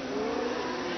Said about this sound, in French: Vous voyez ici passer Chris Amon derrière Graham Hill.